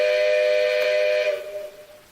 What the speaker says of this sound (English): So now here's the whistle.